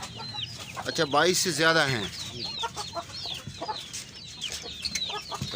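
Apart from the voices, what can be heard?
Shamo breed roosters and hens clucking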